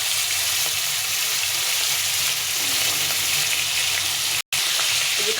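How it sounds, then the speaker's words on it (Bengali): Fish heads are fried in a small amount of oil, and a loud, close, continuous hissing sizzle fills the whole stretch, breaking off for a split second near the end. "এই যে একদম অল্প তেল দিয়েছি, তেলে ভেজে নিতে হবে।"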